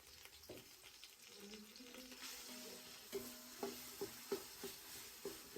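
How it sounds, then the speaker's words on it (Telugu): Homemade ginger-garlic paste frying in oil in a pan for country chicken curry, with a continuous close sizzle and a run of sharp spoon-stirring scrapes and knocks toward the end. "అల్లం ఎల్లిగడ్డ పేస్ట్, మా ఇంట్లోనే నూరిన అల్లం వెల్లిపాయ పేస్ట్. సో ఇది ఒక పెద్ద స్పూన్లు 2 వేసుకొని కొంచెం"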